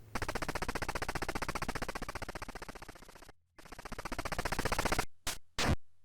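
Rapid machine-gun fire from the NES game Cobra Triangle, shooting at the crab boss in a long rhythmic burst of evenly spaced retro shots, a brief pause, then more firing and a few short sharp blasts.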